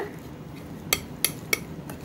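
A utensil taps and clinks against a bowl a few times at a steady pace while mixing masala biscuit ingredients with mint, close by, over a quiet background hiss.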